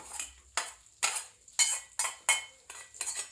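About 300 grams of garlic are stirred while frying in a pan, with a spoon scraping and clinking against the metal in steady strokes roughly every half second, close and fairly quiet, with no talking.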